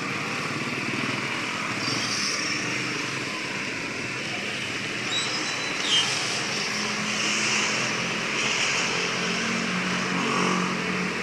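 Road traffic in rain: a steady, loud wash of engine rumble and tyre hiss with no breaks, plus faint higher whines drifting in and out.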